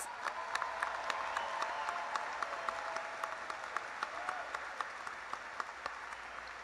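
Audience applause at a university commencement ceremony for health and human services graduates, a continuous fairly distant wash of clapping with occasional sharper individual claps standing out.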